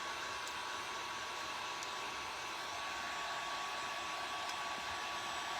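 A hair dryer blows steadily on paint spread over a denim blue jean leg, a continuous close airy whoosh with a faint whine, holding level for several seconds with no talk.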